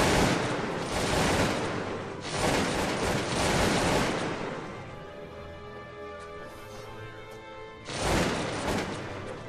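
Volleys of musket gunfire crackle in dense bursts during a Napoleonic-era war strategy video game, with loud broadband fusillades separated by quieter stretches of lingering ringing battlefield noise.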